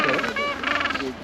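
Several penguins give loud, honking, braying calls in quick succession in Antarctica, close by, with overlapping voices and no talking.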